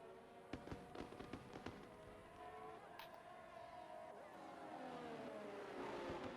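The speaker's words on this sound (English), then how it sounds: "They love the fireworks here in Bahrain." Fireworks crackle and pop in a rapid volley at a Bahrain racing circuit in a racing video game, then give way to a rising car engine drone.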